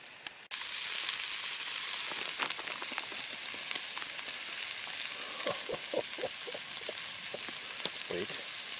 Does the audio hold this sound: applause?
no